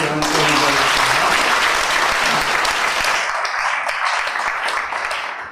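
Applause from a church congregation during a Sunday worship service, a dense, steady wash of clapping that holds loud for several seconds and then thins slightly toward the end.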